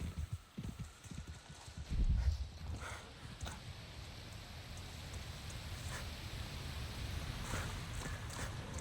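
Hooves of a young dark horse clip-clop faintly on the ground in Avatar Frontiers of Pandora, a quiet uneven trotting rhythm over soft ambient outdoor noise, with a brief louder thump early on.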